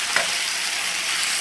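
Chicken stir-fries in a hot wok with garlic, lemongrass and jalapeno, giving a loud, close, continuous sizzle with a few sharper spatters.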